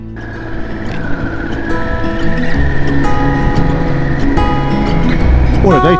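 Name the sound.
adventure motorbike riding on the road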